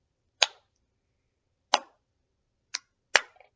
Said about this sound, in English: All right, everybody, clap your hands slowly.